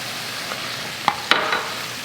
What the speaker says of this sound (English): I have this on high heat because I'm trying to kind of blister these tomatoes